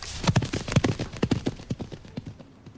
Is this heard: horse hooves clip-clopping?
yes